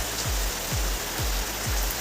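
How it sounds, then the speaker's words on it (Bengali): Heavy rain pours down in a steady, dense hiss, with a soft low thump recurring about every half second beneath it. "দেখো কেমন বৃষ্টি হচ্ছে।"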